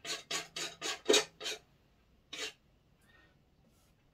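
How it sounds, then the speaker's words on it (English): Oil paint being scraped off a wooden panel: six quick rasping strokes in a steady rhythm, then one more stroke after a pause, close and heard alone. "I'm going to scrape that off."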